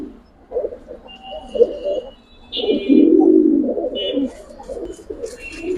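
Giribaz pigeons in a loft in Old Dhaka give close, low, repeated cooing calls in uneven bursts, with a few brief higher chirps and rustles between them.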